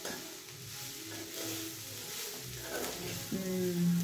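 Vegetable curry stirred in a pan over a steady background sizzle, with scraping strokes through the mixture and a louder clatter near the end, no voices.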